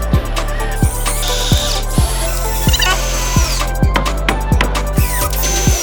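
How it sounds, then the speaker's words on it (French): Cordless screwdriver drives big 8 cm screws into wooden slats of a parkour module, a loud steady motor whine with regular ratcheting clicks and higher squeals as screws bite, continuous and close. "Et on visse des bonnes grosses vis de 8 cm."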